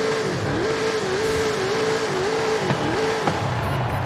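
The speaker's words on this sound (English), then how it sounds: "that kind of sounds like a NASCAR V8" A 1500-horsepower Toyota Tacoma performance truck in Forza Horizon 5 holds a loud, steady engine drone whose pitch wavers gently up and down, heard alone without talk.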